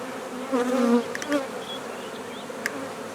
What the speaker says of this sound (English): The bees are going in.